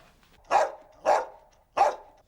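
A frightened, abandoned dog barks three times in evenly spaced, loud single barks, each clear and close with quiet gaps between them.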